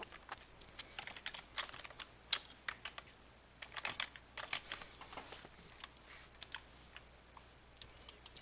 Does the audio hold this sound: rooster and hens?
no